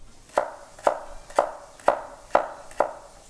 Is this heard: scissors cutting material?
no